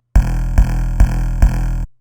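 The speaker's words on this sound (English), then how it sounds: "Second half of the 808 pattern is going to sound like this." Four heavy 808 bass notes hit in an even sequence for the second half of a trap beat pattern, each a loud sustained boom with a punchy attack, ending abruptly with no voice present.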